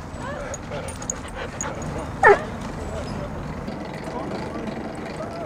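A dog barks once sharply and whimpers amid ongoing background rumble and chatter, the single yelp standing out briefly mid-way while people talk nearby.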